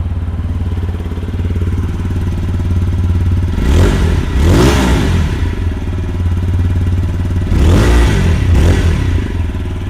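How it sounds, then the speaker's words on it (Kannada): A TVS Apache RTR 160 4V motorcycle idles with a steady, throbbing exhaust note, then is revved sharply twice, each burst rising loud and close before falling back to idle, with no speech. "ಬನ್ನಿ ಇದರದ್ದು ಸೈಲೆನ್ಸರ್ ನೋಟ್ ಕೇಳೋಣ ಯಾವ ಥರ ಬರ್ತದೆ ಅಂತ"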